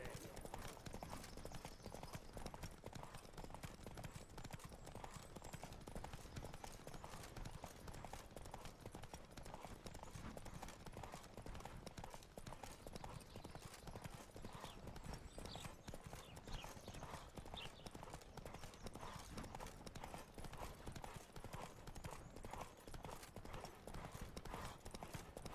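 A horse gallops in a race in The Witcher 3, fast rhythmic hoofbeats running continuously and evenly at a faint level, with game sound around them.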